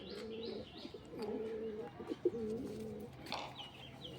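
A full-bodied Naptha pigeon coos in repeated low rolling phrases nearby, with a few sharper chirps and a brief flutter mixed in, no talk over it.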